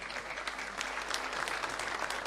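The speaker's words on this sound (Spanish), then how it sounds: "Lo recibimos con un fuerte aplauso a Juan Manuel Mariscal Crispín" Crowd applause at a formal honor session of the Cochabamba departmental legislative assembly, greeting an honoree; even, sustained clapping from many hands, fairly distant and soft, continuous without speech.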